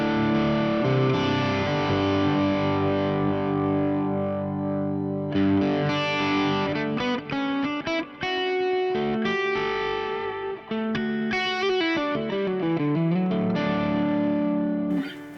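Electric guitar through a Carol Ann OD2 amp with one gain stage driving another, thick, saturated overdriven chords and then single-note lead lines, loud and sustained with no talking.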